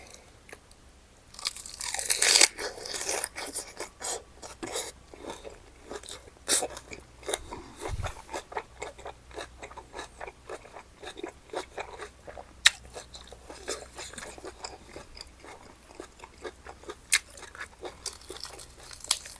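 Up close, someone crunches through a spicy beef tripe salad with fresh vegetables, and loud crisp bites are followed by wet, irregular chewing that goes on throughout.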